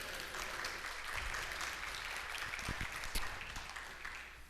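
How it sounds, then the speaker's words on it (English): A church congregation claps together during a Sunday service, a steady, dense wash of applause that holds evenly throughout with no talking over it. "Can we give our online listeners a hand clap this morning?"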